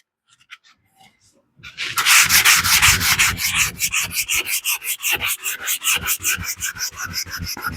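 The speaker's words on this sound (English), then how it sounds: "This is also a wet dry sandpaper." Wet/dry sandpaper rubbing over a basecoat surface in cross patterns, a steady loud rhythmic scrubbing of back-and-forth strokes after a few faint taps, close and alone.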